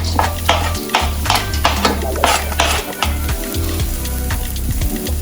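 Carrots fry in a pan for steak fried rice, a steady loud sizzle running under repeated scraping stirs and clinks of a utensil against the pan.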